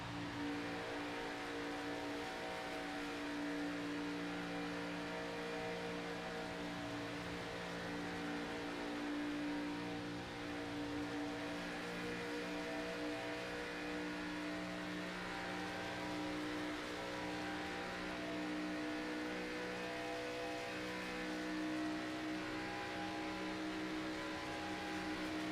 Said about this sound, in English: You just hear all the gas and brake and lift off the throttle and things that you have to do